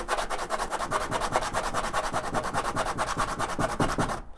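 Coarse 60-grit sandpaper wrapped on a wood block scrubs back and forth across a wooden piece by hand, a steady rhythmic rasp of quick strokes heard close up before stopping abruptly.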